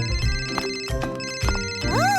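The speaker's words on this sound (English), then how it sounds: "It's the phone!" A telephone rings at home with a bright, repeating electronic ringtone that is loud and close and runs through the whole moment in a cartoon scene.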